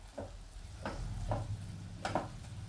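Butter garlic mushrooms cook in a covered pan with a faint, quiet sizzle. Soft scattered ticks and pops rise every half second or so over a low steady hiss, with no talking.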